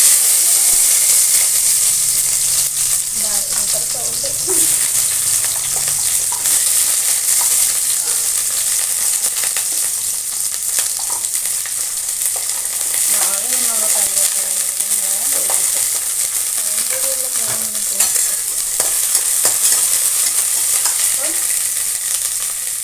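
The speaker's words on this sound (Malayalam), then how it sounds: "നമുക്ക് ആദ്യം ചെറിയ ഉള്ളി ഇട്ട് കൊടുക്കാം." Small onions frying in hot oil with a steady loud sizzle and hiss throughout, broken by scraping stirs of a spatula in the pan, no talk.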